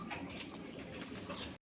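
Pigeons kept for sale coo in soft, low, continuous murmurs at close range, with a faint background hum throughout.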